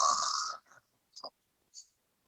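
A snoring sound effect in a Sleeping Beauty storytelling, one long rasping snore followed by a few short, faint puffs and snorts separated by silence.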